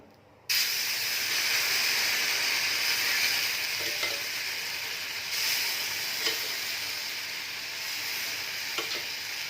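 Rava dosa batter poured onto a hot griddle bursts into a loud, steady sizzle that carries on close and unbroken, with a few faint clinks over it.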